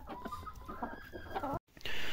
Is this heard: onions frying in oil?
no